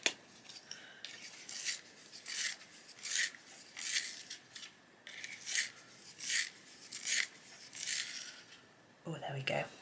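A coloured pencil is turned in a small handheld sharpener, giving a series of close, rhythmic scraping rasps about once a second under quiet surroundings, ending with a brief knock.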